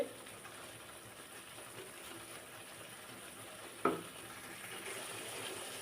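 Spices sauté in a pan for a bottle gourd and fish curry, giving a soft, steady sizzle and hiss. A single sharp clink of a utensil cuts in partway through.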